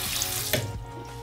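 Water from a running tap splashes steadily as soapy hands are rinsed beneath it at a sink, close and continuous, with a brief handling knock midway.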